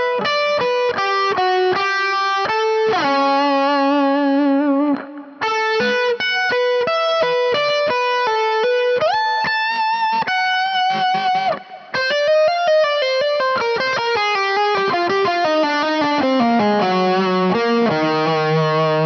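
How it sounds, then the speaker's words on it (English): A distorted electric guitar plays a slow legato lick with effects, a long flowing run of hammered and pulled notes that climb and fall, loud and close, broken by two short pauses, with no talking. "Now the whole lick combined slowly sounds like this."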